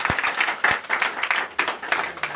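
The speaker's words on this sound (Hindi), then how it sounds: "जोरदार ताली।" Applause from a gathering welcoming party workers at a political event in Sujanpur, a few seconds of steady crowd clapping with some sharper individual claps up close.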